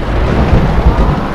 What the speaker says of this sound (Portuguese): Caramba, chegou a chuva como?